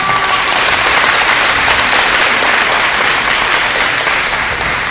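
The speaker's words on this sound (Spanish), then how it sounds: "Dale un aplauso a Cristo Jesús." A church congregation applauds steadily, with dense, continuous clapping that stays loud from start to finish.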